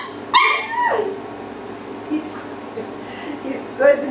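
A male puppy gives a sharp yip and a whimpering bark near the start, with softer whines and another short yelp later, close to the microphone under quiet talk.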